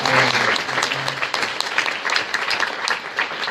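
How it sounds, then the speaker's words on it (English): Applause from a large audience of thousands in a convention center, dense and sustained throughout, with a faint voice briefly audible early on. "Give yourselves a round of applause."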